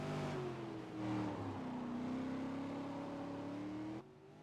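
A V8 Supercar engine on a hot lap at Mosport in 2012 drones steadily with a rising harmonic pitch, a brief throttle lift and surge near the start, then cuts off sharply at the end.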